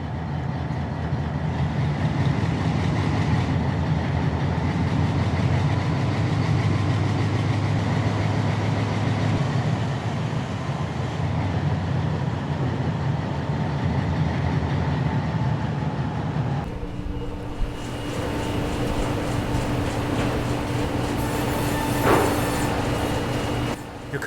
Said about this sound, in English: The logger pulls down the main and cuts off his train between the siding switches